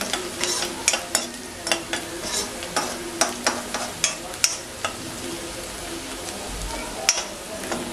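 Onions frying in a pan give a steady sizzle under a regular rhythm of close stirring strokes, with light clinks of the utensil against the pan.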